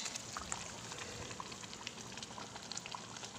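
Fish curry bubbling in a clay pot in a village kitchen, a steady soft simmering hiss with faint scattered pops, close and quiet, with no talk.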